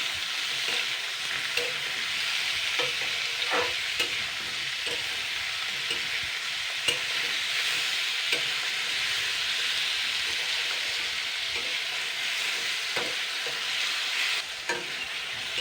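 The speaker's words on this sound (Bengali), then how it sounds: "এবার আমি পেঁয়াজ আর টমেটোটা ভালো করে আবারও 2 মিনিট নাড়াচাড়া করে নেব।" Onion and tomato fry in a pan with a steady broad sizzle, while a spoon scrapes and stirs in irregular soft knocks throughout, close and moderately loud, with no voices.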